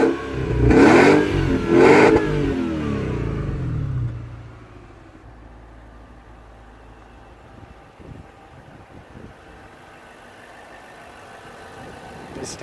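Nissan Cima V8 engine, buried under plastic covers, fires up with two loud revs up front, then settles into a quiet, smooth idle for the rest.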